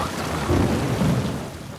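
Steady heavy rain with a deep rolling rumble of thunder in the video game Uncharted 4, loud and continuous across the short stretch, with no voices.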